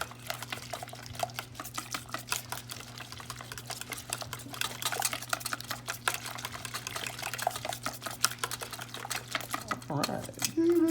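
A utensil mixes cinnamon into pumpkin pie filling, a soft continuous wet churning and swishing with a steady hum underneath, close and moderately loud, while a voice talks over it.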